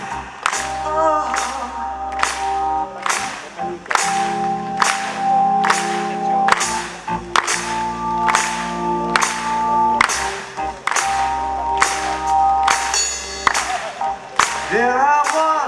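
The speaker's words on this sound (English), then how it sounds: "You can just keep your hands clapping." Audience at a rock legends festival concert clapping in time, a loud regular beat of sharp hand claps roughly every second over sustained band music, close and continuous.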